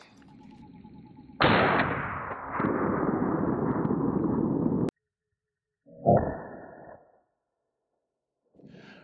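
A PSA GF3 AK rifle fires Red Army Standard 7.62x39 rounds into backpack body armor: one sharp, loud report with a long rumbling decay, then a short second impact burst and a faint later sound.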